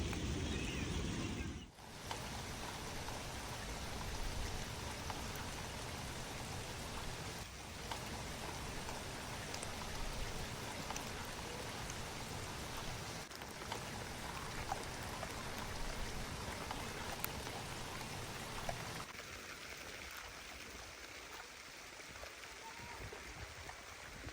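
Steady rain falls in cool weather, a dense continuous hiss lasting nearly the whole stretch, fairly close and even, easing into a quieter wash near the end.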